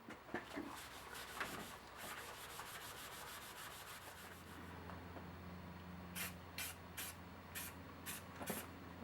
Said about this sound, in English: hit it with some spray paint to make sure it's nice and smooth